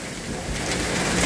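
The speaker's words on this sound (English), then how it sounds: "It's raining cats and dogs" Heavy rain pours down at an outdoor cookout while meat cooks, a dense steady hiss that swells slightly louder over the short stretch, with no talking.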